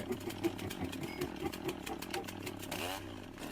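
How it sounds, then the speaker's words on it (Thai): A chainsaw buzzes and revs in a Roblox game, a harsh rattling engine drone with quick pulsing bursts, fairly close and continuous. "แค่เสียงเลื่อย"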